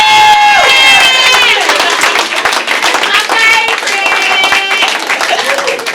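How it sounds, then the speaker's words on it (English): An audience at a Houston reunion show claps and cheers, sustained and loud throughout, over music and some voices. "Let's give a big hand clap for the OG"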